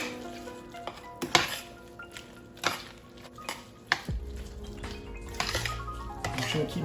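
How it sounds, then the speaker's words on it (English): A spoon mixes baked macaroni and cheese with softened butter in a bowl, making repeated clinks and scrapes against the bowl in an uneven rhythm with a soft, wet squish between strokes. "I'm just gonna keep mixing until everything gets incorporated"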